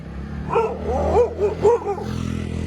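A dog on a roadside by shops in a tea-garden area of Kanyam, Ilam, Nepal gives a short run of several close, yelping barks and whines over a low background hum.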